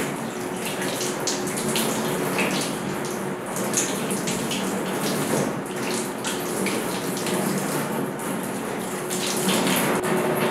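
Tap water runs in a steady, continuous stream while an arm is washed for wudu, a close, even splashing rush lasting throughout with no talking.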